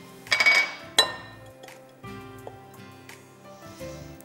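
A utensil stirring condensed milk and grated carrot together in a bowl for a chocolate carrot loaf, with a few bright clinks against the bowl followed by softer, quieter scraping.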